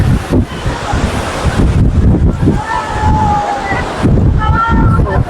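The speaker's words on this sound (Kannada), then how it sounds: "ಓ ಏನು ಗಾಳಿ ಅಂತೀರ ನೋಡಿ." Strong gusting wind buffets the microphone outside a hilltop temple at Himavad Gopalaswamy Betta near Gundlupet, a loud continuous roar with a faint distant tonal wail partway through.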